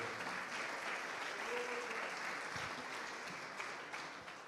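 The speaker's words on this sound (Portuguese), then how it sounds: "Aplauda o Senhor, aleluia." A church congregation claps in praise during a Portuguese-language revival sermon, producing a steady, even wash of applause from many hands, somewhat distant and sustained throughout.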